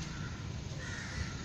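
Crows caw over steady outdoor ambience at Treasury Square, an urban square with trees and passing traffic. The harsh calls ring out over the constant background noise.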